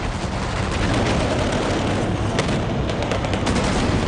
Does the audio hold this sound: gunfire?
yes